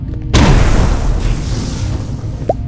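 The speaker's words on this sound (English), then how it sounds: "if I throw a grenade at it" A grenade blast in the video game Cubic Odyssey, set off against a resource deposit: a sudden loud boom with a rumbling decay that fades over about two seconds, followed by a short rising tone, with no speech.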